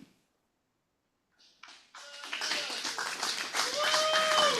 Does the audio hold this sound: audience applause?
yes